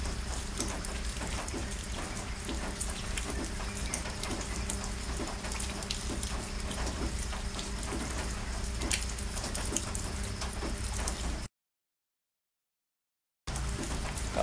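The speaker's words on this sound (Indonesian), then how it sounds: "Kat sini pun hujan sejuk, oi." Cold rain falling steadily somewhere in Selangor, a dense continuous patter with faint dripping, even in level throughout and cutting out briefly near the end.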